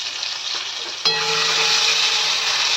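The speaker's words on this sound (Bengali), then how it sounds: "এর মধ্যে আমি দিয়ে দেবো কুচানো টমেটো" Chopped tomato dropped into a pan of frying onion sets off a sudden loud burst of sizzling that then holds steady and close, following a quieter sizzle, with no voices.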